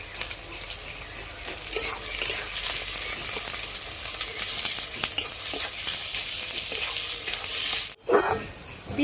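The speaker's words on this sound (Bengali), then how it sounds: "তেলটা গরম হয়ে গেছে, আমি পেঁয়াজগুলো এবারে ভেজে নেব।" Sliced onions fry in hot mustard oil in a wok in a village kitchen, a loud, steady crackling sizzle with scattered stirring clicks. The sound briefly cuts out near the end before resuming.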